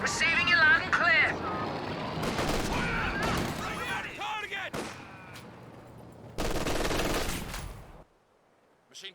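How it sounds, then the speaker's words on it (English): Light machine gun fire in Company of Heroes 2 rattles in several bursts across a battle aimed at grenadiers. Distant explosions and a voice run beneath the shots before the din cuts to near silence. "LMG's coming online now for some of these grenadiers."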